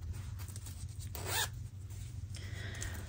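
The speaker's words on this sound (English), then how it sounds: "So I went with a nice pink zipper to pull in" A pink YKK zipper on a yarn project bag is pulled in one close, raspy sweep amid quiet rustling.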